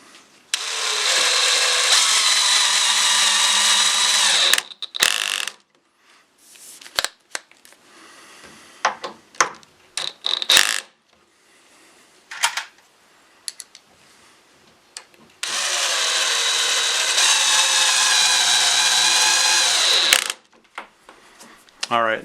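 A power driver fitted with a Torx 25 bit drives screws into wood on a storage cabinet build: two long, loud whirring runs at the start and end, with short ratcheting bursts and clicks between them.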